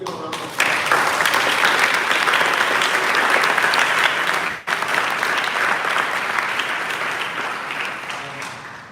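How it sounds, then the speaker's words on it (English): A crowd gives a round of applause for volunteer staff, with dense steady clapping that briefly dips midway and resumes. Faint voices sound underneath. "let's give a round of applause"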